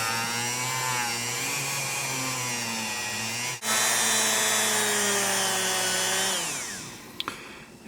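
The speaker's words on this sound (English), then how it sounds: "I just take the barrel and rotate it around while I hold it at an angle to the Dremel" Dremel rotary tool polishing a Smith & Wesson third-generation pistol barrel, a loud steady high-pitched whine with a brief dip midway, then winding down to stop near the end with a few small clicks.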